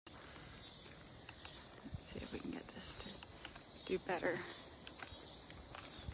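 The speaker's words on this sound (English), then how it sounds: "You can hear the cicadas in the background" Insects on a quiet, empty island buzz in a constant high shrill drone, while someone speaks briefly over it and faint handling noises come and go.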